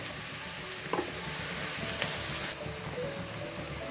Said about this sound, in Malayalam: സവാള ഇവിടെ വഴണ്ട് തുടങ്ങിയിട്ടുണ്ട്.